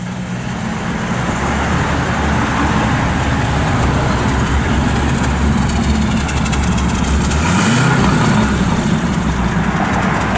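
A 1969 Pontiac Firebird engine idles steadily and smoothly for several seconds, a constant low rumble close by with a slight swell near the end.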